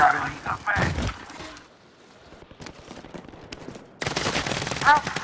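Call of Duty: Modern Warfare gunfire, a loud close burst of rapid shots at the start, a quieter stretch with scattered distant pops, then another heavy volley, with a player talking in between.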